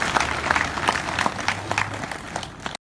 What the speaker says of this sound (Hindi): एक बार ताली बजाओ भाई